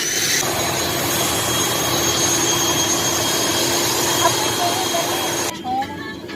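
A small propeller airplane's engines roar steadily from inside the cabin, loud and constant, then drop off near the end as a faint tone rises.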